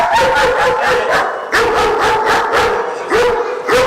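A dog in guard training barks rapidly and loudly at close range, a rough rhythmic series of barks with some whining yips mixed in, alone with no talking.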